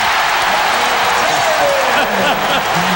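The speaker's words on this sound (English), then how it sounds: "Michael is talking to the crowd, and the crowd is talking back" A basketball arena crowd roars and shouts during a 1993 Bulls–Cavaliers playoff game, a loud, continuous wash of noise with a commentator talking over it.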